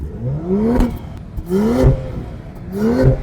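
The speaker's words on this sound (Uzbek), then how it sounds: "BMW'larning ichida eng приятный ovozi X5 G05 mashinasida bo'ladi." A 2025 BMW X5 G05 revs three times in succession, each rise sweeping upward in pitch then dropping back, loud and close with a throaty engine note and no voices.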